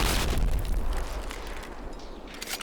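A big explosion sound effect, uncompressed, opens with a loud, deep boom, then debris clatters and falls as a long echo rolls away and fades out near the end.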